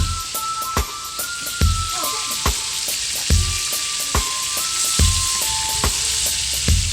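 Shrimp fry in a hot pan for shrimp adobo, a constant close sizzle broken by sharp, regular clanks and scrapes of a utensil against the pan, with no voices.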